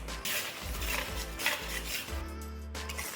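Fresh garam masala and ghee are stirred into ghugni in a pot: a spoon scrapes and knocks against the metal in a few close strokes over a faint sizzle, with a low hum running beneath and no talking.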